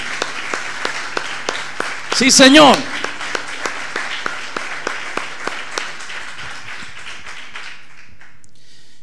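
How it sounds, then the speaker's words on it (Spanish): Spanish-speaking church congregation clapping in a steady, rhythmic beat for several seconds, interrupted by a brief spoken response, before the clapping fades out. "Denle un aplauso al Señor."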